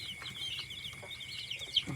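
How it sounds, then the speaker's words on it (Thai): One- to two-week-old chicks at a poultry farm keep up a steady, fairly close chorus of high peeping calls, with no talk. "มีลูกไก่รุ่นหนึ่งสัปดาห์สองสัปดาห์นะครับ"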